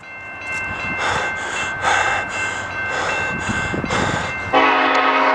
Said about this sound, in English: Some random BNSF locomotive.